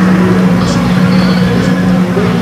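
Rally car being driven on a closed circuit at a special rally circuit event, a continuous steady engine drone at moderate distance without clear revving peaks.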